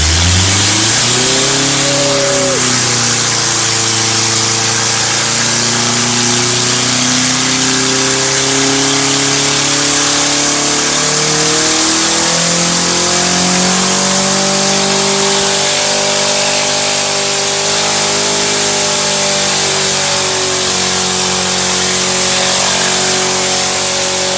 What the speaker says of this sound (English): we're getting lined up to do a burnout on the Civic